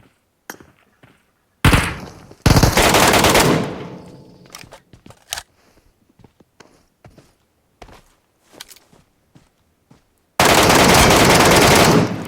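Gunfire in the mobile shooter PUBG Metro Royale: loud sustained automatic bursts near the start and end, with scattered single shots, footsteps and thumps in quieter gaps between.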